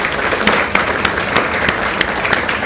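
Applause from an audience at a university event honouring a guest of honour, a dense, steady patter of many hands clapping at fairly close range.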